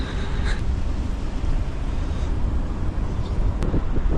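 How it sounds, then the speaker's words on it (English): Wind roars steadily across the microphone while riding a touring bicycle outdoors, a loud, continuous low rumble with brief faint higher sounds, no talk. "See those trees blowing in the wind?"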